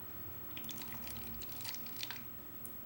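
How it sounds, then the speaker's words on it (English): Faint trickling and dripping as a small amount of water is poured into a clear container to dissolve baking soda for a homemade mouthwash; quiet and close, with no voices. "And to that I will add just a little bit of water"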